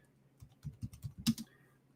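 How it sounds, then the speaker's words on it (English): Someone types on a computer keyboard whose battery is running low: a quick run of about six soft, close keystrokes in a quiet room, the last one slightly louder, with no talk. "It's on my keyboard here now."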